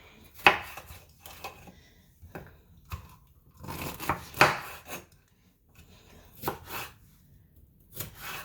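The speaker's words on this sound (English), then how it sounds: "I'm gonna slice my peppers up." A knife slices through bell peppers on a board, giving a string of close, crisp cuts with knocks of the blade against the board. The cuts come in uneven bursts separated by short pauses.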